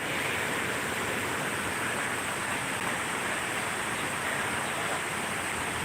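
Water pours down a waterfall in a steady, loud, broadband roar that stays even and continuous throughout, with no voices.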